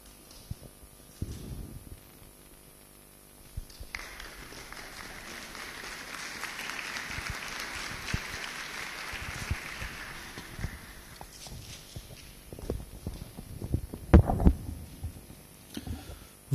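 Audience applause in a chapel at a family-day conference in Alençon, a sustained patter of clapping for several seconds that swells in the middle, with scattered thumps and faint murmurs before and after.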